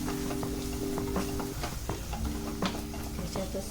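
Ground coriander and cumin powder being sautéed and stirred in a pan for a chickpea curry, with repeated scraping strokes of a spoon in an irregular rhythm over a soft background sizzle, close and fairly loud.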